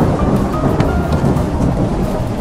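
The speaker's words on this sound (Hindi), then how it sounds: "अरे ये बारिश तो रुकने का नाम ही नहीं ले रही" Heavy rain pours down in a cartoon storm, a dense, loud, continuous hiss with a deep rumbling thunder underneath, steady for the whole stretch, with no voices.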